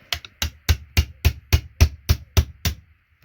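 A chisel tapped against an electronic component to break it open, about ten sharp metallic strikes in a steady, even rhythm, close and clear with short ringing decay.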